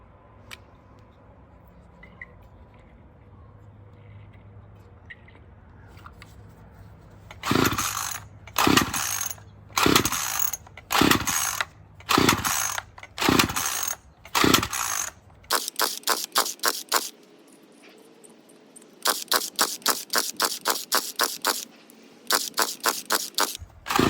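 A Murray M2500 string trimmer that runs poorly is pull-started: a recoil cord is yanked again and again in two rapid, rattling bursts, each pull a sharp ratcheting whir, with quieter gaps between.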